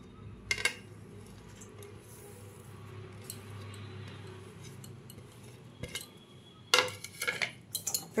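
Chopped vegetables, grated ginger, green chilli and coriander tipped from a container into a bowl of semolina, a soft rustle followed by a few sharp clinks and scrapes of a spoon against the bowl near the end.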